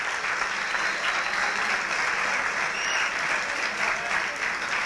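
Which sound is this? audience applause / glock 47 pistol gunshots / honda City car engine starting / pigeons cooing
audience applause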